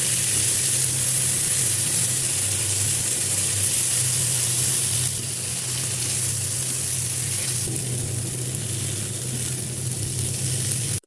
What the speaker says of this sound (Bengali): সাথে অল্প একটু হলুদ, মরিচ, ধনিয়া গুঁড়া, লবণ আর পানি দিয়ে ভালোভাবে কষিয়ে নেবে।